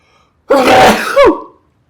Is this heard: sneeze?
yes